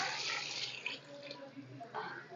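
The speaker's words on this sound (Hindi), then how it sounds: "अब मैं इसके अंदर पानी डाल दूँगी।" Water from a tap pours into a pressure cooker holding mash lentils in a home kitchen, a steady splashing rush, fairly faint, shifting in tone as the flow changes.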